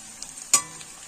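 Potato, spinach and spices fry in a pan, a soft low sizzle broken by one sharp clink of a spoon against the pan, brief and close with no speech.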